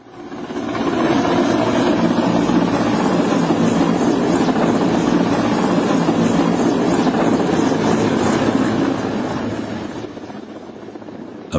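A Mexican Navy helicopter with a mechanical failure roars steadily and loudly, rotor and engine, for several seconds, then eases off slightly toward the end.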